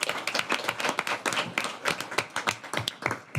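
A small group claps at a city council meeting, producing irregular, fairly quiet hand claps in an uneven rhythm that carries steadily through the short stretch.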